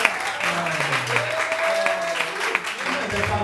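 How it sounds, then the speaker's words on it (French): A church congregation claps steadily through a French-language worship moment, with a voice speaking or chanting over the continuous applause. "Acclame ce Dieu qui te passe."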